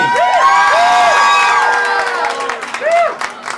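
A small-club crowd at a folk concert at Banjo Jim's in New York screams and cheers loudly, with high, rising and falling whoops standing out over a steady roar that thins near the end.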